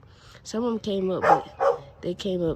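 A dog barks repeatedly in short high yelps close by, overlapping with a person talking.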